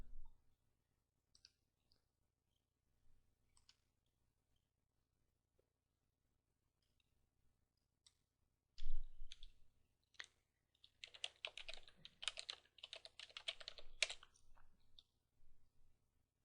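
Computer keyboard typing, close and quiet: a few isolated key clicks at first, then a dense burst of rapid keystrokes later, with no talk.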